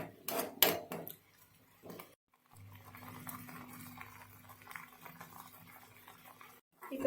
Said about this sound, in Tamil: இது கொஞ்சம் பாயில் ஆகட்டும்.